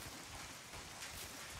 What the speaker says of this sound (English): It's the sound of the rain on the metal roof.